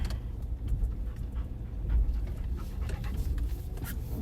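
Small dogs panting inside a moving car on a drive, soft rapid breathing over a steady low road and engine rumble throughout.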